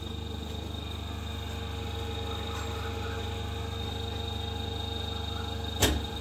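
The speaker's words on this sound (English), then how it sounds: "after that we have to start this AC motor first" An AC motor runs on a double voltage double frequency test bench, giving a steady, even electrical hum throughout with one sharp click near the end.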